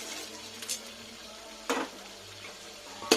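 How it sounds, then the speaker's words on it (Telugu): Biryani masala spices fry in a pan with a quiet, steady sizzle, punctuated by a few soft stirring scrapes and a light metallic clink; no one speaks. "ఇలా 2 మినిట్స్ ఫ్రై చేయాలి"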